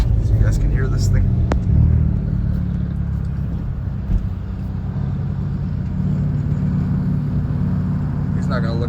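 A Hyundai Veloster N engine drones low and steady through an open window while driving the Tail of the Dragon road, a constant rumbling cabin hum with a brief click early on.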